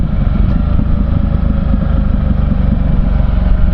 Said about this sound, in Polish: Ale grzmoci z tego tłumika fajnie.